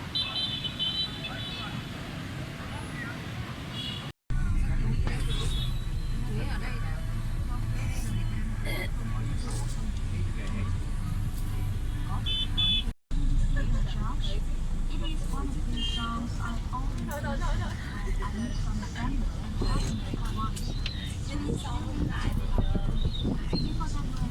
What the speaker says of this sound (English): Traffic in Hanoi.